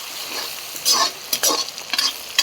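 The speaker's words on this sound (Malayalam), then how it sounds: "ഇത് നന്നായിട്ടൊന്ന് വഴറ്റി കൊടുക്കാം നമുക്ക്." Chopped ginger and garlic sauté in a pan for an anchovy fish pickle, giving a steady close sizzle broken by several scraping stirs, with no talking.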